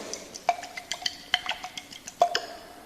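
Glass containers holding sodium chloride in ethanol and in hexane are shaken, giving a quick series of light ticking and clinking taps, close up and irregular, with no talking.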